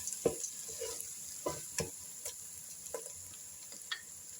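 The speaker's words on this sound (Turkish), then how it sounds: "Şöyle karıştırıyorum" A spoon stirring bulgur into a pot of çiriş otu soup, a handful of sparse clinks and scrapes against the pot over a faint steady hiss.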